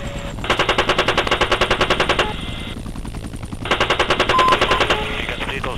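A vehicle-mounted machine gun in ARMA 3 fires two long, loud, rapid bursts separated by a short pause, close and dominant.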